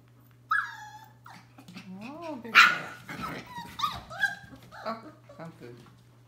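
Australian Labradoodle puppies yipping, whimpering and giving short barks at play indoors, high-pitched and irregular, with a person talking to them softly at the same time.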